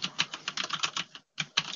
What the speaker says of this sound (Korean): 현재 갈축 기계식 키보드를 타건하고 있는 소리인데요